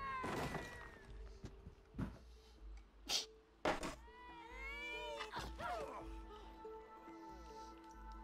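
Cat in It Takes Two giving several meows and squeaky calls, scattered across the clip with thumps and a bed of game music, and a faint voice now and then.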